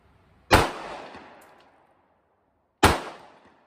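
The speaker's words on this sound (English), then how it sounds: "Moving on to the Federal Personal Protection buckshot." Two sharp, loud shots from a Bond Arms Derringer in .410 firing Federal Personal Protection buckshot at an outdoor range, each with a short trailing echo, spaced about two seconds apart.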